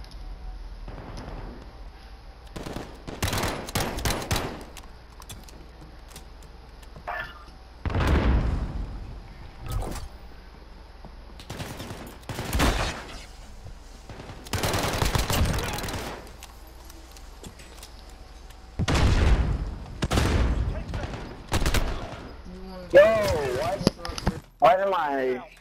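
Submachine gun fire in Call of Duty: Modern Warfare comes in short, loud bursts and single shots scattered across the stretch, separated by quieter gaps, with players talking between them.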